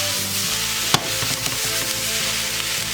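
Italian sausage and ground beef sizzle steadily in a hot pan for a sloppy joe, a dense continuous crackle with one sharp clack near the start and faint scraping stirs.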